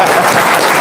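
Brief, loud burst of audience applause at an Indonesian talk, dense clapping heard for under a second.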